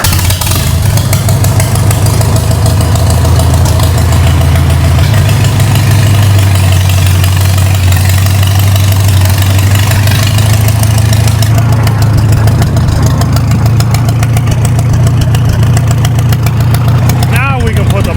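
A Farmall tractor engine idles loudly nearby with no muffler fitted, giving a deep, steady rumbling throb that stays constant throughout, with a brief clatter near the end.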